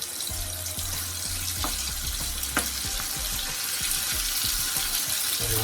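Shrimp deep frying in hot oil for sweet chilli shrimp pasta, a steady close sizzle and bubbling hiss throughout with soft low rumbling and occasional pops, no voices.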